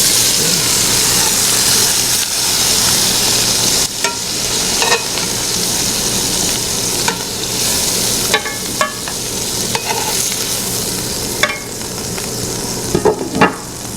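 Chicken sizzles in a cast iron skillet on a stovetop, a steady loud frying hiss broken by occasional scrapes and clicks of utensils against the pan, close up and without talk.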